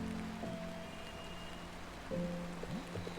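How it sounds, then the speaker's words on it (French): Steady soft rain falls in the video game Until Then, a continuous wash of patter with faint tonal sounds drifting through it and no voices. "j'adore la pluie"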